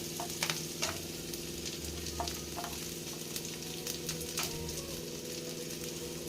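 Garlic frying in a hot pan for tamarind chutney gives a steady, close sizzle, with a few sharp scrapes and clicks of stirring scattered throughout and a low hum underneath.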